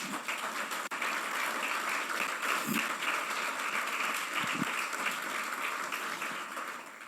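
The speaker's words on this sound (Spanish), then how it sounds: "Denle un aplauso al Señor." A church congregation applauds steadily during a Spanish-language sermon, a broad wash of clapping that continues evenly throughout, with a couple of faint thumps underneath.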